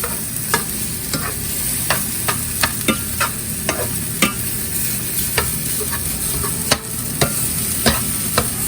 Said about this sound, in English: we just want to mix the vegetables in with the rice